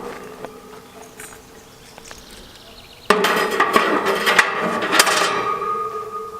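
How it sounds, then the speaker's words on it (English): Metal grates go into a Green Mountain Grill Davy Crockett portable pellet smoker, first faint knocks, then a loud run of clanking, scraping and rattling metal close by. "And then you're going to put in the grates."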